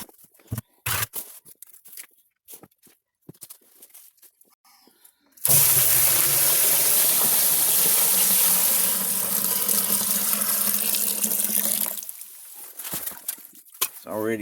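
Groundwater seeping into a freshly dug hole in gooey, quartz-bearing material while prospecting for gold gives a steady, loud rush of flowing water that sets in suddenly after scattered handling noises and runs for several seconds before fading back to intermittent clatter.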